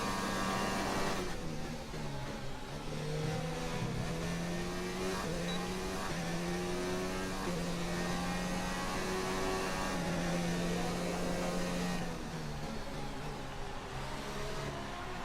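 A Mercedes and a Ferrari race around the Monaco circuit in a video game, giving a continuous engine whine whose pitch climbs and drops through gear changes, steady and fairly loud with no talking.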